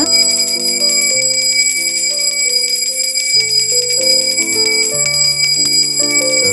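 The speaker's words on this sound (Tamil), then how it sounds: "வீட்டில் இந்த மணி சத்தம் கண்டிப்பாக கேட்கணும்." A brass pooja prayer bell rings continuously and loudly, its bright clanging strokes repeating in a steady rapid rhythm with a shimmering sustained tone close by.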